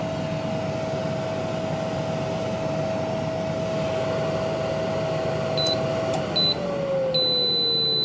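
The fan of a Nuwave Brio 10 quart air fryer blows with a steady, even whir and a faint tonal hum that drops slightly in pitch near the end, with a few small electronic beeps, close by and without talk.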